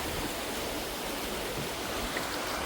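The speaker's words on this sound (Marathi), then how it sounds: "बघा कसला पाणी आला आहे जोरात" Loud, steady roar of water rushing with force, a dense continuous wash of noise with no voices.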